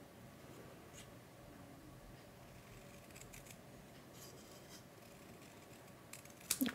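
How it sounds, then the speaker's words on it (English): Scissors snip through paper during card-making in a quiet room, a few soft cuts followed by a louder sharp snip near the end. "just cut as best I can in a straight line"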